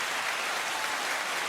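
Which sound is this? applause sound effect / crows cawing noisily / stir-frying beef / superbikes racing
applause sound effect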